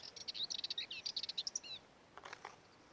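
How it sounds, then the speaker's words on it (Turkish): Rapid series of high, bright bird chirps for the first half, then a shorter burst of chirping after a pause; fairly faint with background hiss. "Kuşun sesine bakın."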